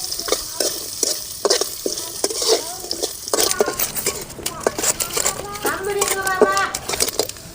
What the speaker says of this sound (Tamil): இதையும் நல்லா நெய்யிலே பொரிச்சுக்கலாம்.